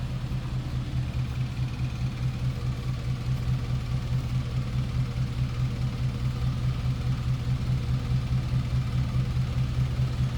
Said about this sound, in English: Very smooth running car, as you can hear.